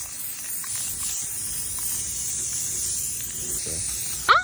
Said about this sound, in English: Gotta love spray paint.